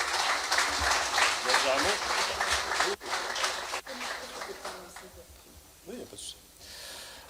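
Audience applause at a company award ceremony: a thick burst of clapping that thins out after a few seconds, with voices murmuring and speaking through it.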